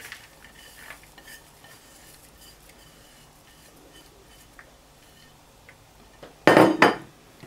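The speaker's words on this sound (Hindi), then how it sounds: "बीच में अब सारी सब्जियां यानी कि प्याज, धनिया, कसूरी मेथी, हरी मिर्ची डालने लगे" Chopped onion, coriander, dried fenugreek and green chili tipped onto cooked chicken and potatoes in a pan, faint quiet scraping and light clinks, then a brief loud clatter of utensil against dish near the end.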